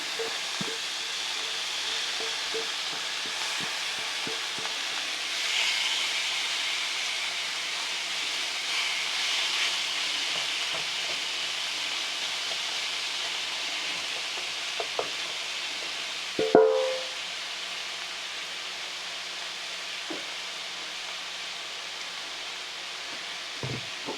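Spaghetti squash sizzles steadily in a hot pan, a continuous bright frying hiss with occasional soft scrapes and one louder clatter as it is stirred.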